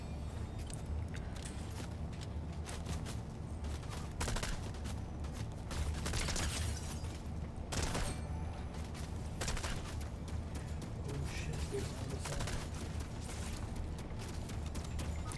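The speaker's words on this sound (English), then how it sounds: "Where are they shooting from?" Continuous gunfire in a video game, a dense mix of shots and bursts rumbling along steadily with a few louder volleys standing out, no voices over it.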